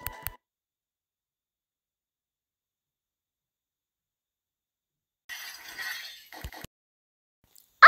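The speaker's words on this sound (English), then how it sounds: "Oh, Michelle, you dropped your glass." A drinking glass dropped in a farmhouse kitchen at breakfast: a couple of sharp clinks at the start, then after a silence a scattered crunching burst of breaking glass, with one more sudden loud crash at the very end.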